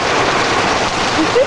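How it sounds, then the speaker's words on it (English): Heavy rainstorm pours down in a dense, loud, unbroken hiss of rain hitting surfaces, with a brief faint tone near the end and no talk. "Raining like heaven."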